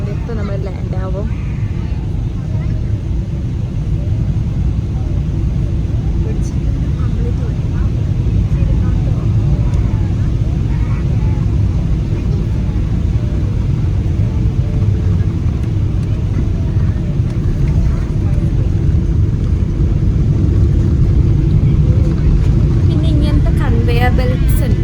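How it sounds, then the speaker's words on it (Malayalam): Loud, steady low rumble of an Emirates airliner's cabin as it descends to land on the runway, engine roar holding constant throughout with no break. "ഇപ്പോൾ റൺവേ കണ്ടു തുടങ്ങി. അവിടെ ഫ്ലൈറ്റ്സ് ഒക്കെ കണ്ടു തുടങ്ങിയിട്ടുണ്ട്. ഇപ്പോൾ നമ്മൾ ലാൻഡ് ആവും."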